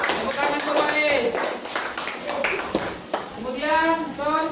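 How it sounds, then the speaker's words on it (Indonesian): Children applaud together in a classroom, a dense burst of clapping running throughout while a teacher's voice and chatter carry on over it. "Tepuk tangan untuk Wais."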